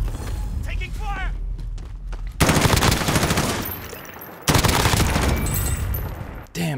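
Gunfire in Call of Duty Modern Warfare Plunder mode, with scattered shots early, then two long bursts of loud, rapid automatic fire close by, separated by a short lull.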